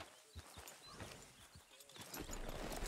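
Horse hooves in Red Dead Redemption 2 give a few scattered, soft clip-clop steps at a slow, irregular pace, mixed with faint ambient game sounds and a rising noise toward the end.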